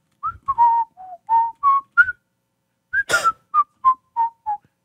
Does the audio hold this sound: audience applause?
no